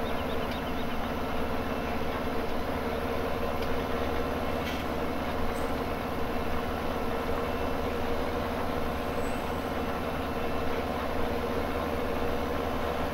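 Tractor engine idling in Farming Simulator 17, a steady low rumbling drone that holds unchanged the whole time, close and alone with no talking.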